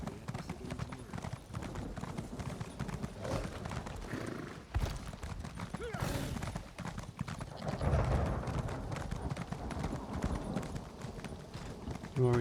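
Steady clip-clop of horse hooves trotting through a city in Elder Scrolls Online, with a busy layered background of game sounds and occasional thumps.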